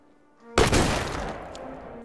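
Sniper rifle fired at a shooting range: after a quiet hum, one sudden loud blast cracks out and rolls off in a long, decaying echo.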